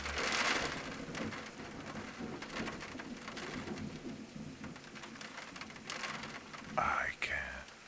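Steady rain patters throughout with low rumbling thunder rolling underneath, growing into a sharper crack near the end.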